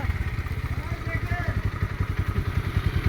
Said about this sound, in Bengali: আস্তে আস্তে পিক আপ দিও এই যে আমাদের পালসার এখন যাচ্ছে